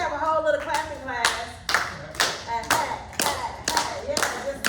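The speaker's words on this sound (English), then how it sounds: "I'm clapping for this reason. That's why I'm clapping." A single person clapping their hands at close range, sharp claps in short bursts and a steady rhythm, mixed in with a talking voice that sounds over and between the claps.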